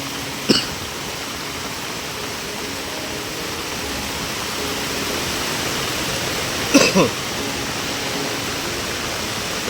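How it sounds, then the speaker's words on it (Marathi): Muddy river floodwater rushing with force after heavy monsoon rain in a Konkan village, a continuous broad roar with a couple of brief knocks or coughs over it. "पाणी खदूळ आहे कसला येतोय बघा वरून तिकडून फोर्सने"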